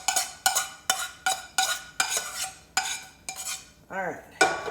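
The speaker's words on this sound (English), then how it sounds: "And I just stir it up" A spoon stirs baked beans in a pot, making about ten rhythmic metallic scrapes and clinks close by, with a single brief spoken word near the end.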